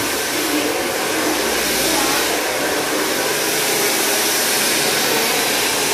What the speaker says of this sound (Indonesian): Ini suara aslinya kalau lagi ngeblow ini berisik banget.